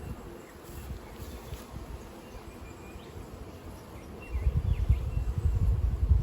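Honey bees hum and buzz around an open hive, a soft steady drone close by that swells louder toward the end, with faint rustling underneath.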